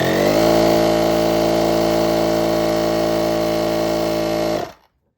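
An air compressor runs steadily at close range with a loud, even mechanical hum and motor whine, then shuts off abruptly near the end, leaving silence.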